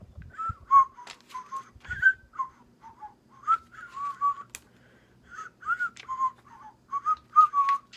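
A person nearby whistles a wandering, uneven melody of short tonal notes with brief gaps, alone without talk, plus a few faint low knocks at the start.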